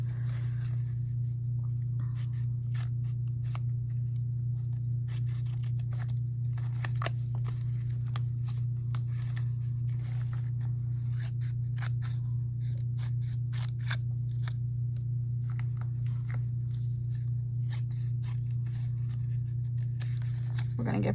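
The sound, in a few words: scissors cutting out a paper collage figure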